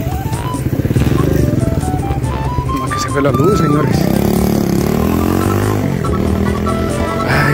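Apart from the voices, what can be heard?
motorcycle passing by at night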